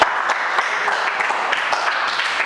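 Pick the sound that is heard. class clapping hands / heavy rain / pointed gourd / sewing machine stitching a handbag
class clapping hands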